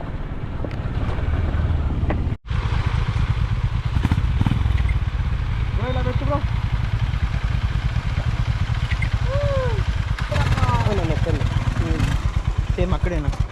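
Superbikes on a weekend group ride roar continuously with steady engine drone and wind buffeting the microphone, a brief dropout near the start, while riders talk over the noise throughout.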